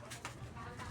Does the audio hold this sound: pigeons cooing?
yes